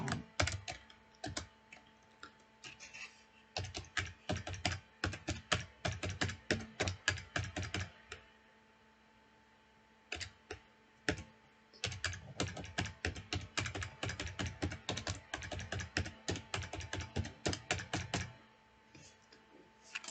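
Fast bursts of clicky keystrokes on a computer keyboard while entering data into a spreadsheet, in steady runs of rapid taps with a short pause near the middle, close and clear with no voices.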